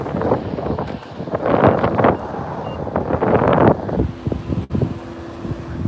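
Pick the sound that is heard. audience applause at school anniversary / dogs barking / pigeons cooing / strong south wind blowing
strong south wind blowing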